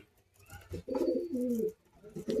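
Pigeons bred for flying competitions coo in low, rolling calls, one long throaty coo dominating the middle of the short stretch, close by with quieter cooing around it.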